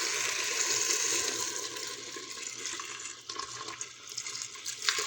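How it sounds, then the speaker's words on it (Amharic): Water poured into a pot of rice kabsa with tomato, onion and spices during cooking; a soft, continuous splashing pour lasts several seconds, fairly faint and without speech. "እንዳቅሙ ውሃዬን እከልሳለሁ"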